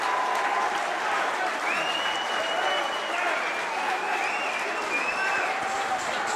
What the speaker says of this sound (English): The crowd roar.